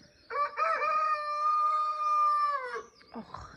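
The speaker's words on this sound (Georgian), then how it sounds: "ჩემი მამალე" A rooster crows once, a long drawn-out call that holds steady before trailing off, followed by a few soft scuffling sounds.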